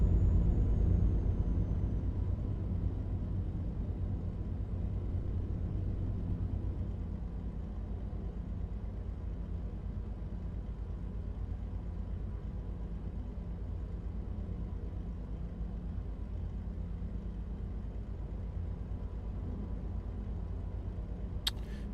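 Truck engine in Euro Truck Simulator 2 fitted with a modded engine sound, a steady low rumble droning on evenly throughout, with a single brief click near the end.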